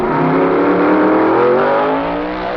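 Corvettes roaring down a drag strip at the 1963 NHRA Winternationals, a loud sustained engine drone that rises and holds in pitch, with no talking.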